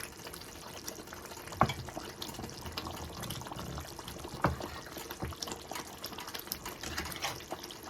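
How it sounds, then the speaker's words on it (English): Sunflower oil drained from a can of tuna into a cooking pot, a faint, soft liquid trickle with a couple of sharp metallic knocks from the can. "this tuna is in sunflower oil, so I'm just gonna drain it in there"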